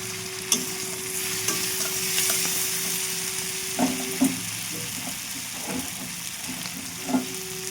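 Food fries steadily in a pan with a constant sizzle, punctuated by occasional stirring scrapes and clinks at a moderate level; no one speaks.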